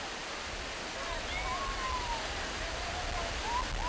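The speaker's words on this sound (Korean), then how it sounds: "폭포가 나온다." A waterfall of more than 300 stepped rocks, about 200 m high, pours onto a beach at Ocho Rios, Jamaica, in a continuous broad rush of falling water, with faint high chirps or whistles drifting above the steady roar.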